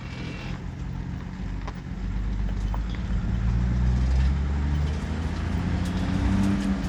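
A 1978 International Scout II with a diesel engine drives along a road, a steady low rumbling drone that builds slightly as it gets underway, with light rattles over the top and no talking.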